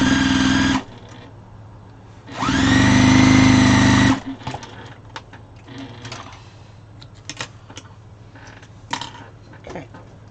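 A sewing machine whirs through fabric scraps in two loud, steady bursts, the second longer, followed by quieter handling clicks and rustles.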